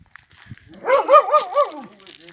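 A husky gives a short, close, yodel-like bark-howl with a wavering pitch lasting under a second, set among quiet indoor shuffling with no talk.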